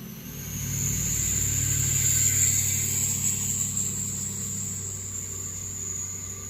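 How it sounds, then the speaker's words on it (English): Diesel trucks pass by, a low engine rumble swelling in from near silence and holding steady with a thin high whine above it, then easing slightly as they move off, with no talk. "I was letting the diesel trucks pass"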